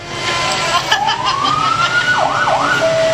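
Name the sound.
CAL FIRE fire engine 2260 siren in a parade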